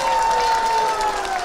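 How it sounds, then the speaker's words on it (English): Applause from an audience at an elementary school's 50-year celebration, a brief dense patter of clapping with a sustained tone ringing over it. "Can we give a round of applause to Mrs."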